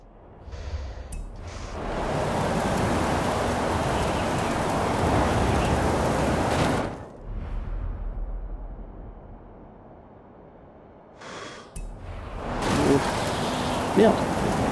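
Rain storm in the Forza Horizon 5 racing game: a dense, steady rain hiss fills long stretches and cuts off abruptly twice, with brief breathy vocal sounds in the gaps.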